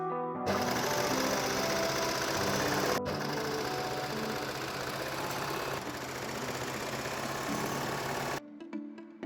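A sewing machine stitches the seams of a garment lining in one loud continuous run, with a brief sharp click early on and an abrupt stop near the end.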